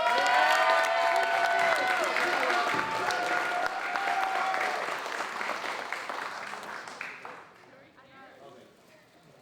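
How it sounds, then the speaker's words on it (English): A school theater audience applauds and cheers a stage manager on closing night of "The Lightning Thief", loud at first and then tapering off, with voices mixed into the crowd. "So please clap for Jade."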